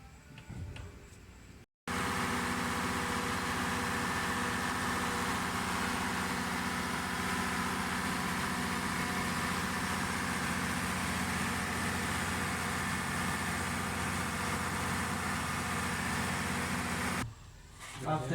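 A Cummins diesel engine idles steadily after an oil change, a continuous low hum with even ticking that runs unbroken for about fifteen seconds between brief quiet gaps at the start and end.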